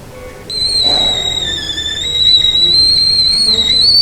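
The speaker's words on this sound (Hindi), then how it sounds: "कैटल की आवाज़ थी" A kettle whistles loud and shrill, one sustained steady tone starting after a brief pause and holding unbroken to the end, close and alone.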